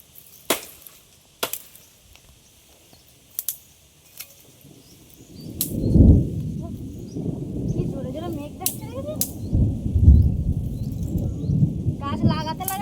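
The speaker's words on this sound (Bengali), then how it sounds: "বৃষ্টি আসছে, ভীষণ জোরে মেঘ ডাকছে" Before rain, a few sharp isolated cracks ring out close by, then loud, deep thunder rumbles in and rolls on continuously, with faint higher sounds near the end.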